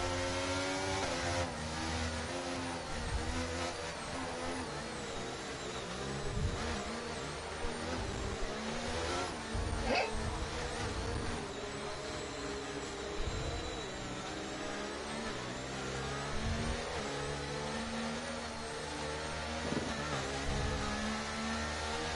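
Race cars running on the Singapore Grand Prix circuit behind a safety car in a racing video game, a steady droning engine hum with gentle rises and falls, moderately distant and fairly quiet.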